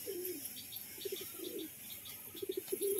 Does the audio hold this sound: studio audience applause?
no